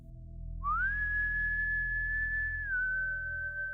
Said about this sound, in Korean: 선이가 부르는 휘파람 소리에 나도 모르게 어깨를 움츠렸는데